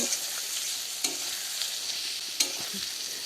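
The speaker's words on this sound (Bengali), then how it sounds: "আলু একটু ভালোভাবে ভেজে নেব আরও দু থেকে তিন মিনিট ভেজে নেব" Potatoes frying in a pan for a potato and chana dal curry, a steady close hiss of oil with a few soft knocks as the pieces are stirred, no voices.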